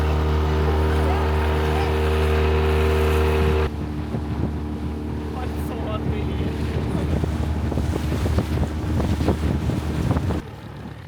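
Small boat ride on the sea off the Banggai Islands in Central Sulawesi, Indonesia, with a loud steady engine drone and heavy wind buffeting on the microphone, then a rougher stretch of rushing water and wind noise.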